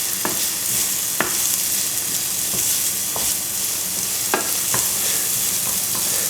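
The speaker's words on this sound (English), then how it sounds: "Give those a quick move around in the oil." Chopped onions fry in hot oil for a Thai dish, giving a steady loud sizzle broken by several sharp scraping taps of a utensil stirring them around the pan.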